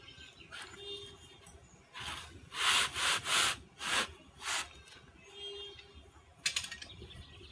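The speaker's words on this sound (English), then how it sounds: "This little vase I place quickly into the sawdust. And throw quite a lot of sawdust on top." Sawdust thrown by hand over a hot raku-fired vase, a run of soft rubbing and scraping rustles in quick bursts, close and fairly quiet.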